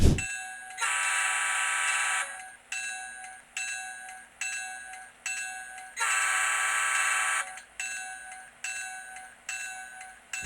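A model locomotive's Digitrax Next 18 sound decoder plays a steady engine hum with repeated horn blasts, some long and some short, in an irregular rhythm.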